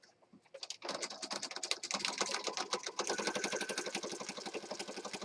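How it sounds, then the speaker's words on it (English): A sewing machine stitches lace onto a journal page, starting with a few slow stitches and then running into a rapid, steady close-up rattle of needle strokes. "And then I'm going to sew across here."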